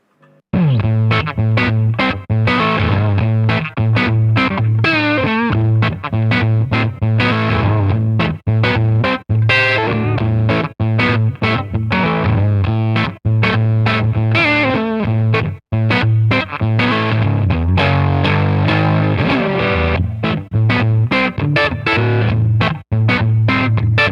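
Electric guitar with P90 pickup through a Fender '57 Custom Deluxe tube amp, played loud and continuous with a slightly driven tone and lots of reverb, strummed chords and picked notes throughout.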